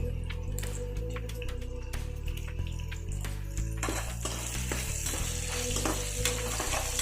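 Dried red chillies and turmeric sizzle in hot oil for poha upma, a steady close frying hiss that grows brighter and busier partway through, with a low hum underneath.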